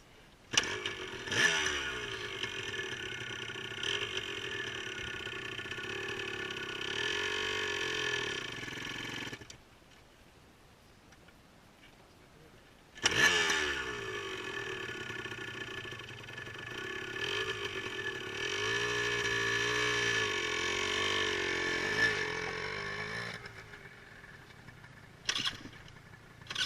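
Motorcycle engine revving under throttle, loud and close, with rising and falling pitch sweeps; it cuts out briefly around mid-clip, then restarts and revs again with sustained blips.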